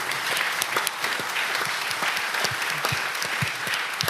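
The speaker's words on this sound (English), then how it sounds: "Big round of applause, please" A large audience applauds steadily at a panel event on Bitcoin mining and energy, a dense, continuous wash of clapping with a few sharper close claps standing out, no talk over it.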